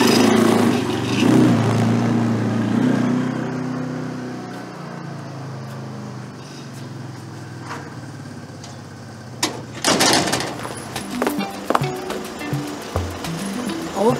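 A motorcycle taxi engine idles with a low rumble, then revs and pulls away, its sound rising in sharp, uneven bursts near the end.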